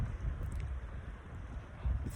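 Strong late-autumn wind gusts roar across a wilderness campsite in the Boundary Waters, a steady low rumble of buffeting air that swells near the end, with no voices.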